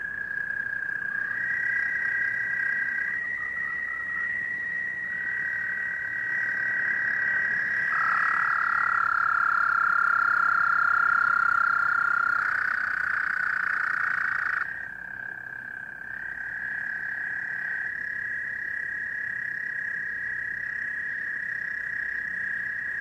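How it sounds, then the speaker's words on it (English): Sustained high-pitched trills of American toads from a Rouge River watershed recording, several overlapping callers holding long steady notes that start and stop in turn, loud and continuous with no talk. "That was the trill of the American toad."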